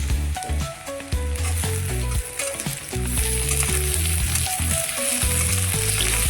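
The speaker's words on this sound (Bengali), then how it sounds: "এখানে পেঁয়াজ আর তেলে ভাজা হয়ে গেছে এখন আমি দেবো শুটকি মাছগুলো" Dried fish goes into a pan of onions frying in oil, raising a loud continuous sizzle with clattering stirs and scrapes of a utensil against the pan at irregular intervals.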